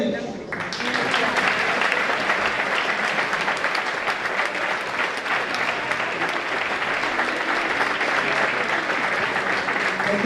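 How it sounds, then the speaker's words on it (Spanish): A crowd applauds music groups at an Asturian Christmas folk gathering, with sustained dense clapping filling the room and voices mixed in beneath it. "Yo pido un aplauso para el Corriello, la Pandorga, para los novatos de Rimenis."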